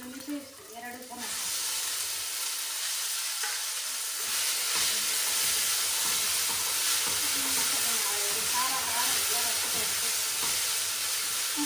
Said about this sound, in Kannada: ನೀರುಳ್ಳಿ ಕೆಂಪಾದ ನಂತರ ಕಾಯಿ ಮೆಣಸು ಹಾಕಿ, ಶುಂಠಿ ಬೆಳ್ಳುಳ್ಳಿ ಪೇಸ್ಟ್ 2 ಚಮಚ,